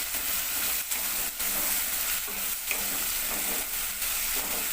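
Eggplant, radish, potato and drumstick pieces frying and being stirred in a pan for dried anchovy curry, giving a steady close sizzle with spoon scrapes and brief clatters throughout, no talking.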